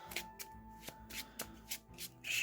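Marvel Champions cards being shuffled by hand, several quick riffling bursts in an irregular rhythm, close and fairly quiet, with no talking.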